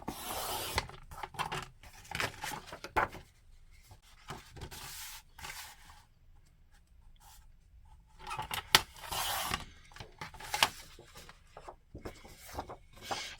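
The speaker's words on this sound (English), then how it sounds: "Then I'm just going to take my paper trimmer" A paper trimmer slices card along a pencil line during Christmas card making, giving a few soft rasping slides and rubbing strokes in short bursts with quiet pauses between, close and faint.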